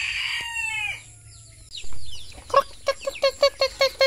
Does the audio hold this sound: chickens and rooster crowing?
yes